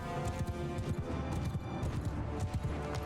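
Cavalry horses gallop in a Mount & Blade II: Bannerlord battle, a dense, continuous rumble of many hooves with clashing and crashing battle noise, loud and close throughout.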